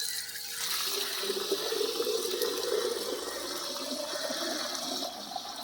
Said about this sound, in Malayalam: നമുക്ക് ഇതിൽ വെള്ളം നിറയ്ക്കാവേ